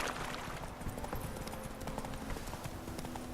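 Roach, a horse in the game The Witcher 3, gallops with steady rhythmic clip-clop hoofbeats, fairly faint and continuous, with no speech over it.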